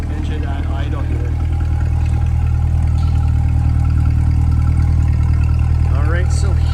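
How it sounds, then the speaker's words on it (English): A 2025 Chevrolet Corvette E-Ray 3LZ coupe's 6.2-liter V8 hybrid idles with a steady, close low rumble throughout, while a person talks over it. "we'll listen to the engine at idle here"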